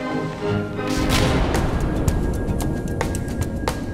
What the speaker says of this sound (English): the vast explosions of her depth charges seal the fate of any U-boat